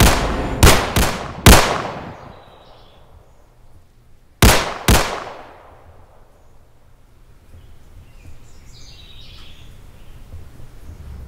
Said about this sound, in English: Johnny, shoot!